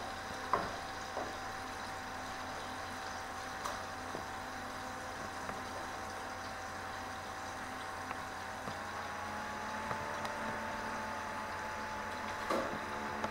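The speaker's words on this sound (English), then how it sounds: "It's really just sizzling in more grease." Steady, quiet sizzling of breakfast sausages frying in grease, a soft continuous crackle with the occasional pop and no voices.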